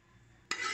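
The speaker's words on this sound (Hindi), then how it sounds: "करके चम्मच हिला दूँगी" A spoon stirs a tablespoon of dried fenugreek into cooked daal, starting with a sudden scraping clatter against the pot that continues as a steady, close stir after a quiet lead-in.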